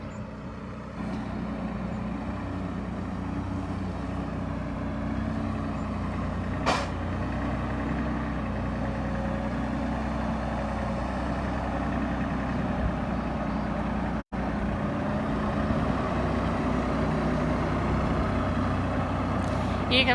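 A farm tractor engine runs at a steady, unbroken drone for the whole stretch while hay is fed into hay rings, a loud constant rumble with no voices on top.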